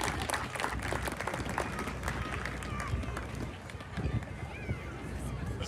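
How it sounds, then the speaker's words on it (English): A crowd applauds students at an outdoor groundbreaking ceremony for Vel Phillips Middle School, a steady wash of clapping running the whole way with scattered voices and movement mixed in. "Another round of applause for our students."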